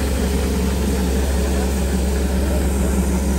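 Coal-fired Darjeeling toy train steam engine running, a loud steady low rumble and hiss that continues unbroken at close range, with no talk over it.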